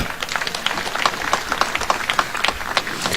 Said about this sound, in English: Let us give our Prime Cabinet Secretary a better clap.